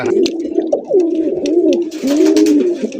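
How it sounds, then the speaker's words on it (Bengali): A pair of large colored Rasgolla pigeons coo loudly and close by, rolling repeated throaty calls with faint clicks and rustling in between. "আরো এক জোড়া কালারিং রাসগোল্লা কবুতর দেখতেই পাচ্ছেন, বিশাল বড় সাইজের মধ্যে"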